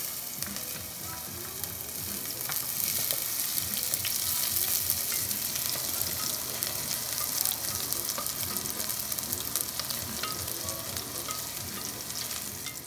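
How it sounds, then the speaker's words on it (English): Garlic frying in canola oil, a steady dense sizzle with crackling and spitting that holds close and loud throughout, with no talking. "first we'll fry our garlic with some canola oil"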